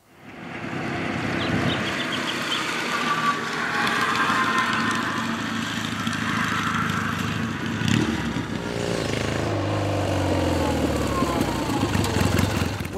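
A Triumph Bonneville motorcycle engine with tri-spark ignition, not running its best, idles and runs steadily and loudly, with a rough, uneven rumble and some mechanical clatter throughout.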